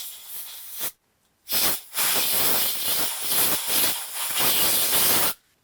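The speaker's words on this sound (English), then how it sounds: "Let's go with some compressed air." Compressed air blasts sugar out of a Nintendo Switch console in loud, close hissing bursts, one short spray followed by a pause and then a long sustained blow lasting several seconds before cutting off.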